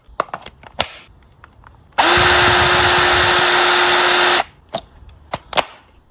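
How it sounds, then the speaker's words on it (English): A cordless drill powered by a Ryobi-compatible 5.0Ah battery runs at steady high speed for about two seconds, a loud continuous whine that starts and stops abruptly amid scattered clicks and taps. "starting with the drill."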